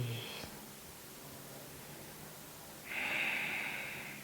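A slow inhale through the nose during a yoga class, a soft breathy rush that swells near the end after a quieter stretch, heard close and alone.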